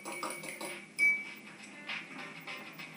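A bowl of vegetable oil and an egg being mixed for a date raisin loaf, with soft scraping and light clinks of utensil against the bowl and one sharp tap, fairly quiet and close.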